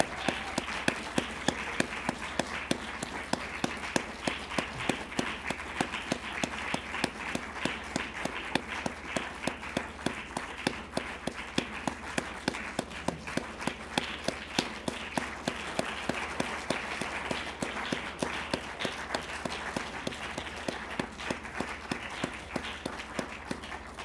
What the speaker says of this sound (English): I just want everybody to give them a round of applause for the great job they've done